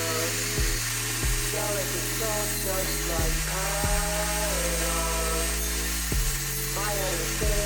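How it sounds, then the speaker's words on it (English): A power saw rips through plywood at a 45-degree bevel, its steady whining drone running throughout with tonal shifts and a few sharp bumps as cuts begin and end. "I'll cut some plywood down at a 45-degree angle and cut a few squares."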